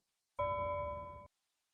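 A bell rung to end a speaker's allotted time at a public forum in Nigeria gives one clear, sustained ding of about a second, close and alone with no talk around it.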